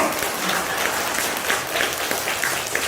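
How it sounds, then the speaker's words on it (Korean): An audience in a church breaks into applause, with dense, sustained clapping from many hands filling the space evenly throughout, and no voices standing out. "박수 쳐야지"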